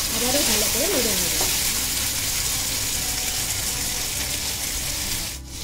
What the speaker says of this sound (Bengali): আদা বাটাটা দেওয়ার পরে টমেটোটা আমি আবারও ভালো করে নেড়ে নেব।